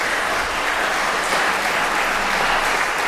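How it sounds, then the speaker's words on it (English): Steady, full applause from a congregation honoring volunteers at a Sunday gathering, a dense continuous wash of clapping throughout. "Thank you for your applause for them."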